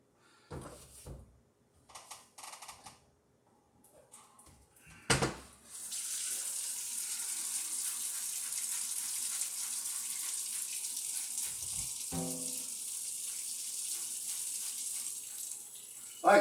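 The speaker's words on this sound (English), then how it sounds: "Let me rinse my hands." Kitchen tap running hot water as hands are rinsed, starting after a few soft clunks and handling noises, then a steady close hiss of flowing water with splashing changes and a brief interruption near the end.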